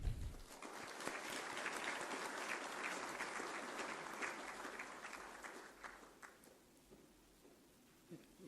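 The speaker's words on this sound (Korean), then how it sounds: "함대진 홍보단장님을 큰 박수로 맞이하겠습니다" Lecture audience welcoming a speaker with sustained applause, many hands clapping at a steady level before the clapping thins out and dies away, leaving a few scattered claps at the end.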